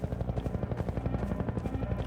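Helicopter in Half-Life 2 as a steady, close rotor thumping in rapid regular pulses, loud and continuous, with no talk over it.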